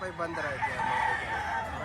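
Amid steady auction-market crowd noise in Padre Garcia, a rooster crows at moderate distance, its call partly buried under murmuring voices and background bustle.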